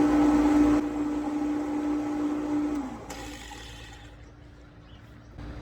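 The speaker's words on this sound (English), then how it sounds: "let's turn the pump off now" An above-ground pool pump with a sand filter hums steadily up close, then its motor winds down and falls quiet, leaving faint background noise and a soft click near the end.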